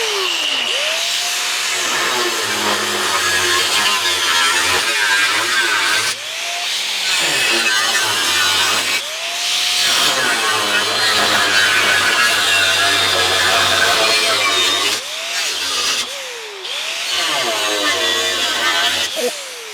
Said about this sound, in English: So I'm going to get that cut out.